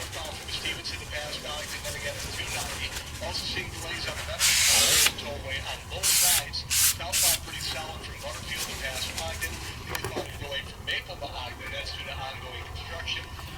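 Aerosol degreaser sprays onto an AR-15 bolt carrier key in a workshop, several short sharp hissing bursts, one longer then three brief, over someone talking.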